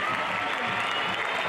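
A stadium crowd roars continuously during a men's 5000m athletics race, a dense, loud wash of cheering with a commentator's voice underneath.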